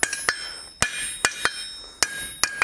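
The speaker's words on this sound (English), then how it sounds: "you can practice hammering this way and develop those basic fundamental skills and hammer control" A hammer strikes a piece being forged into a roasting fork, about eight sharp ringing blows in an uneven rhythm with brief pauses between them, close and loud.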